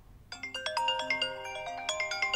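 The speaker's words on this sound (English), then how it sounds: "Don't you dare answer that phone." A phone ringtone plays a quick repeating melodic pattern of bright electronic tones, steady and fairly soft in a quiet indoor stage scene, with no talk over it.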